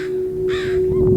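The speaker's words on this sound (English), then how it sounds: "I've made a friend with this American crow." An American crow caws loudly and close by in a short harsh burst, over a steady electrical hum and light background noise near a border crossing.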